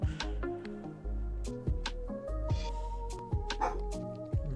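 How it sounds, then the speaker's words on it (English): Mifa, a dog lying down indoors, lets out several short, spaced barks and yips over steady background music from a Pokémon game. "I have no idea why Mifa's barking"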